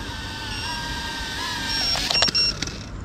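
An FPV drone on Gemfan 3.5-inch props whines steadily at high pitch, then cuts off abruptly in a skid stop, with a few quick bursts and rattles at the end.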